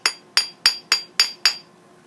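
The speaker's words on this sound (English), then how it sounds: "as you hammer these, they tend to move a little bit" A small hammer taps metal brooch wire in six crisp, evenly spaced strikes, each ringing briefly and close up.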